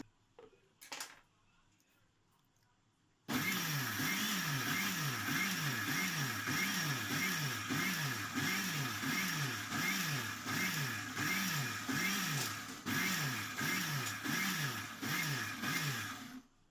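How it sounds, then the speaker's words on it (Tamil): A mixer grinder blends homemade mayonnaise with oil, starting abruptly after a brief quiet knock and running as a loud, steady motor whir with a pulsing, churning rhythm. It continues nonstop for over ten seconds without any talking. "இப்போ மொத்தமாக ஆட் பண்ணி நம்ம அரைக்கணும்."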